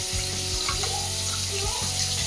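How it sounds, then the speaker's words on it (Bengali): Fish frying in hot oil in a home kitchen, a steady sizzle with a few brief knocks and clatters from handling in the pan, no talking. "তো চলো মাছটা আগে ভাজা হয়ে যাক"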